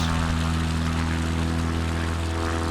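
Propeller aircraft engine in MS Flight Simulator 2024 droning steadily and loudly with a constant tonal hum, heard alone with no talk.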